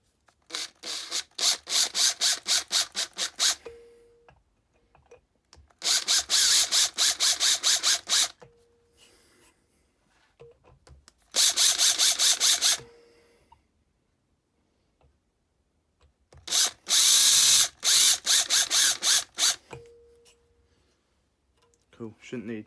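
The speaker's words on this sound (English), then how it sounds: "Alright then, going to drill" A power drill bores relief holes into the corners of a Stanley blade holder in four loud, close whirring bursts separated by quiet pauses.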